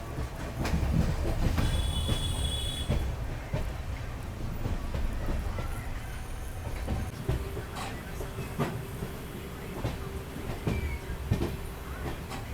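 A train rumbles past on a journey aboard the Banaras New Delhi SF Express, with heavy low wheel noise, rhythmic clickety-clack, and a brief high squeal, loud and continuous throughout.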